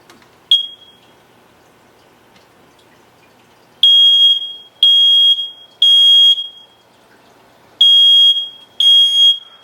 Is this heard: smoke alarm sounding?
yes